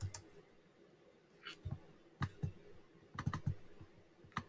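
Computer keyboard keys being typed in short, scattered bursts of a few clicks at a time, close and fairly quiet, with pauses between and a faint room hum underneath.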